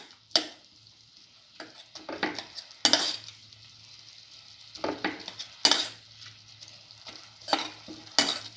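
Potatoes being mixed and mashed for a cinnamon mint potato omelette, giving scraping and tapping strokes of a utensil against a pan or bowl, with several louder knocks spaced irregularly over a steady low hum.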